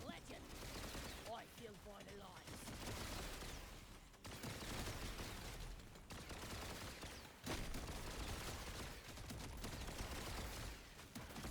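Rapid weapon fire in the video game Deep Rock Galactic Survivor crackles in dense, continuous bursts with short pauses between volleys, fairly quiet overall, with a voice occasionally talking over it.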